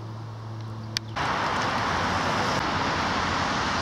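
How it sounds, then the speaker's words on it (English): Traffic on the A1(M) motorway in Hertfordshire, a broad steady roar of passing vehicles that swells up suddenly and then holds loud and continuous, with no voices. "You just start to hear the A1M again now."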